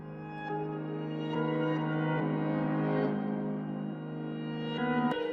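An FL Studio music loop with a halftime effect plays as a dense, droning harmonic texture whose chords shift every second or so. It sits moderately quiet and sustained, with no voices.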